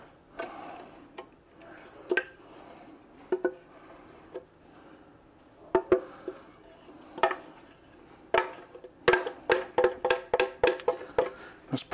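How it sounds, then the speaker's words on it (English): A utensil scrapes and clinks against a pan while sauce for rabbit tinga tacos is stirred, with sparse taps early that grow into a quick run of sharp metallic scrapes toward the end. "I'm gonna scrape some of that out of there"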